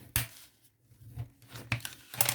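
Paper folds on a pop-up card are creased by hand in a few short, crisp rustles and scrapes, separated by brief pauses, close and fairly quiet.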